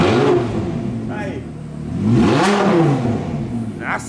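A sports car engine revs near a Corvette and an Audi R8 at a car dealership, rising and falling in two loud swells under excited talk.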